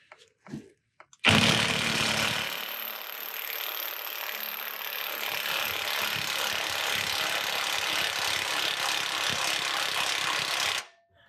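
A Harbor Freight transmission jack raises a transmission into place during a 450 hp 5.3 LS swap, giving a loud, steady mechanical whir and ratcheting drone that runs unbroken for about ten seconds after a few short knocks.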